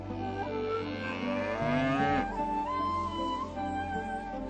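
A cow moos loudly and nearby in several long, drawn-out calls with rising and falling pitch, heard alone with no talking.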